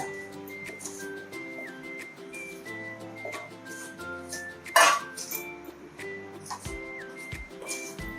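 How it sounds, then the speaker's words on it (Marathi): Flour dry-roasted in a pan for chakli, stirred continuously with a utensil scraping and clinking against the metal, steady and close with one sharper clatter midway, no talking. "नुसतं हलवून हलवून भाजून घ्यायचं"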